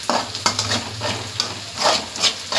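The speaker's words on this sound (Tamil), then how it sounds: "இது வந்து வெங்காயம் நல்லா வதங்கட்டும்." Onions sauté in a pan for a Sunday fish curry, a close, busy sizzle broken by rhythmic spoon stirs and scrapes against the metal.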